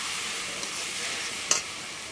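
Spices stirred into a frying matar paneer masala, a steady broadband sizzle with one sharp utensil tap partway through, close and unaccompanied.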